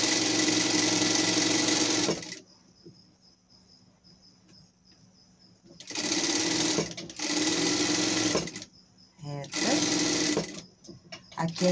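Sewing machine stitching a straight seam edge to edge on a pet's dress, loud close bursts of fast motor whir broken by short stops, with a thin high whine during the pauses.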